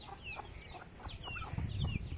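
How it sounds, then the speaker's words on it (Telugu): Black-meat chickens cluck and chirp softly at close range in a farmyard, a scatter of short murmuring calls over low background rustle. "ఇది నల్ల మాంసం కోడి"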